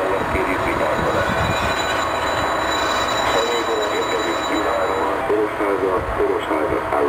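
A passenger train pulls into Orosháza station in Train Simulator (MSTS/Open Rails), with steady loud rolling rumble, wheel squeal and rail clatter throughout. A station announcer speaks over the noise.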